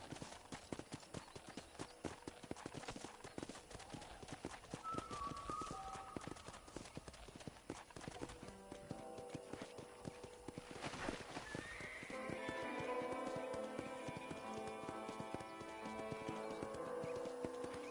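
Steady clip-clopping hooves trot at a regular pace in Red Dead Redemption, joined by a horse's whinny and layered game background music.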